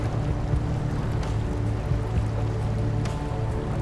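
In the SnowRunner driving game, a truck sits stuck under water while its wheels spin, giving a steady low engine drone with churning, sloshing water noise throughout and no talking.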